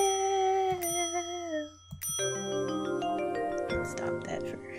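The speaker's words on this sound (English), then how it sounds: "Alright, let's ring this bell." A bright ringing counter bell in the video game Hotel Dusk, with a sustained chime followed by a second struck ring that decays under layered musical tones.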